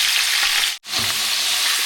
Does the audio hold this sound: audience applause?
no